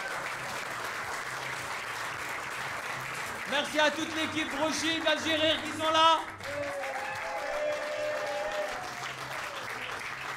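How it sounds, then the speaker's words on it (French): Stand-up comedy audience applauding in a club, a burst of clapping rising and then fading while a host speaks over it. "J'aimerais qu'on applaudisse très fort aussi tout l'équipage à Artissimo qui nous a accueillis."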